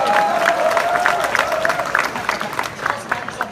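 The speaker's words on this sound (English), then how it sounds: "give him a round of applause" Applause and crowd noise from an audience at the Boilermake 2017 hackathon opening, greeting someone dressed as an astronaut; dense, steady clapping with cheering and voices mixed in, fading slightly toward the end.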